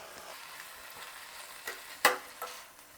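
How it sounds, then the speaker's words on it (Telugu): Amaranth greens and green gram stir-fry in a pan with a quiet, even sizzle, marked by a few sharp spatula scrapes and knocks, the loudest near the end. "ఇప్పుడు ఈ ఆకుకూర కూడా బాగా గోలాలి"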